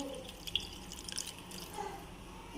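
Milk pours from a glass into a bowl of soaked rice for kheer, a soft, steady liquid trickle with a few light drips, close and fairly quiet with no talking.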